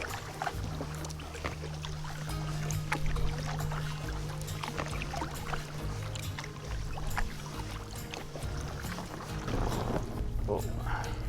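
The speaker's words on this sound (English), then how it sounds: "It's getting a little shallow, scraping the bottom." A packraft drags and scrapes over a shallow river bottom on a long expedition, a low grinding rumble and water swish close to the microphone under wind, with someone talking at times.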